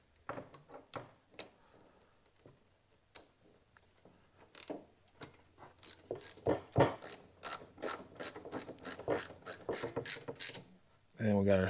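Ratchet tightening a new Champion spark plug into a Kohler lawn mower engine, then a torque wrench clicking: a run of sharp close ratchet clicks speeding into a steady rhythmic burst, ending in a louder scrape.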